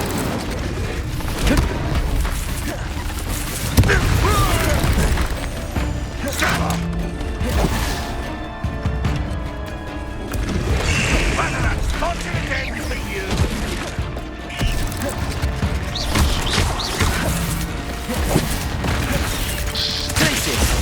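Fiery spell blasts from Incendio and Confringo in Hogwarts Legacy, a wizarding video game, boom repeatedly through a dense, continuous battle din, with voices shouting over the combat.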